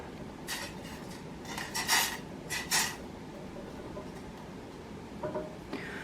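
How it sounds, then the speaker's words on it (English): Dried cherries stirred into wine in a pot, a spoon scraping and clinking against the metal in a few short bursts over a quiet background. "stir them up."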